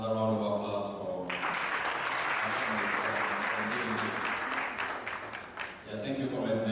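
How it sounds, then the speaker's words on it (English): Convention audience applauding loudly for several seconds, a dense wash of clapping with speech before and after it. "Another round of applause for"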